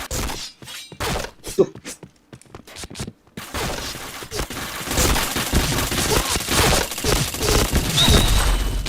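Rapid bursts of video game gunfire crackle and pop, starting in sparse sharp shots, then thickening into dense continuous firing with clattering impacts.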